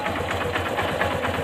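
A small engine runs smoothly after its bearings and roller guide were replaced, a close, steady, rapid mechanical whir with an even pulsing rhythm and no talk.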